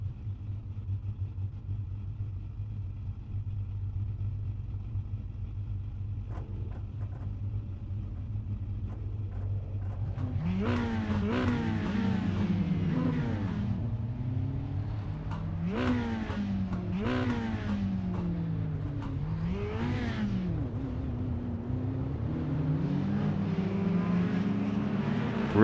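Race cars in a 10-lap shootout at the Langley oval, engines rising and falling as several pass close by in waves after a quieter steady drone at the start.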